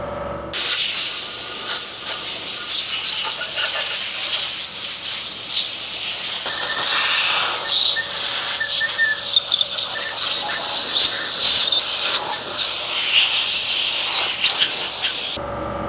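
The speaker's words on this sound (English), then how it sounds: "This is just brake clean, by the way." Aerosol brake cleaner sprays onto the cylinder bores of a Doosan D24NAP engine block under rebuild, a loud, sustained close-up hiss with brief pauses and small shifts in pitch and pressure.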